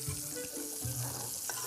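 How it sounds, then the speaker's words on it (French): Salsify roots and chopped yellow salsify greens cooking in butter in a saucepan, a soft steady sizzle with occasional stirring scrapes, close and fairly quiet. "Le chef ajoute les fans ciselés du salsifis jaune dans la casserole de salsifis racines qui cuisent avec juste ce qu'il faut de beurre."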